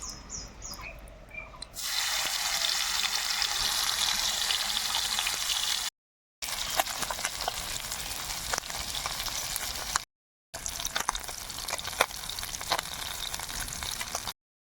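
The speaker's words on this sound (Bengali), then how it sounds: "কড়াইয়ে তেল রয়েছে, ওই তেলেই আমি পুঁটি মাছগুলো ভেজে নেব।" Oil sizzles and crackles steadily as small puti fish fry in a wok, a continuous close hiss with occasional sharper pops and brief gaps.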